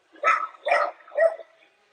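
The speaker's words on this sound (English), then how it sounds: "Rather, there are two dogs barking each other." Two dogs bark back and forth at each other outdoors in three loud, close bursts over about a second and a half, then go quiet.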